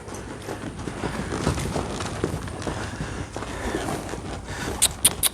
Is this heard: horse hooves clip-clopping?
yes